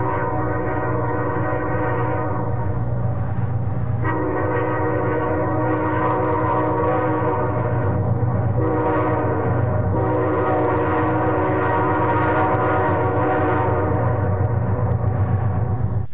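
A loud, sustained five-chime K5 steam train whistle chord blowing continuously on the BC Electric railway at Abbotsford, with brief breaks and changes in pitch, rich and harmonic, heard up close.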